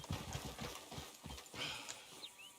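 Horse hooves clip-clop steadily in the Red Dead Redemption II video game, a moderately loud rhythmic series of hoof strikes with faint background ambience.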